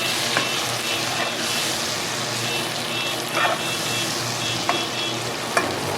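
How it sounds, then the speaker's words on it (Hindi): Chopped tomatoes stirred into garlic and ginger frying in a pan, a dense continuous sizzle with occasional soft spoon scrapes and taps, close and steady. "अब इनको हम इसमें मिक्स कर देंगे अच्छी तरह।"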